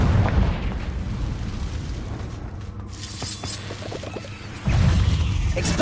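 A Confringo blasting spell from the Hogwarts Legacy game explodes, a heavy boom opening the passage, fading through rumbling debris, then a second loud burst near the end.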